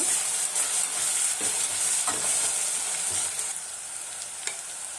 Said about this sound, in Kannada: ಈಗ ರುಬ್ಬಿಟ್ಕೊಂಡಿರುವಂಥ ಮಸಾಲನ ಸೇರಿಸ್ತಾ ಇದ್ದೀನಿ ಇದನ್ನ ಒಂದೆರಡು ನಿಮಿಷ ಚೆನ್ನಾಗಿ ಉಕ್ಕೊಳ್ಳೋಣ